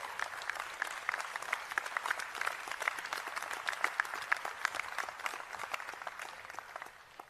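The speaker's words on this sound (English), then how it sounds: "So will you stand and applaud?" A university graduation audience applauds, a fairly distant, even patter of many hands clapping that holds steady before tapering off at the end.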